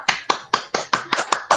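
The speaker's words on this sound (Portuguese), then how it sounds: "Vamos fazer uma salva de palmas aqui." Clapping at an astrobiology lecture, heard as about seven close, crisp, evenly spaced hand claps in a quick rhythm, loud and near with no talk over them.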